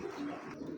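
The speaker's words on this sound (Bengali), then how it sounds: "তো মাশাল্লাহ কবুতরগুলো দেখেন আপনারা, সাইজ যে বিগ সাইজের একটা বেজি কবুতর" A big-sized old-breed Beji pigeon gives a short, soft, low coo, heard close and brief, with faint background noise.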